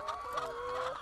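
Free-range laying hens on an egg farm in Ávila give a brief burst of soft, overlapping clucks and murmurs. The sound is faint and close, with no talking.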